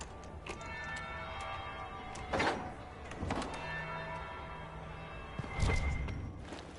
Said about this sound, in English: That will be the second bell.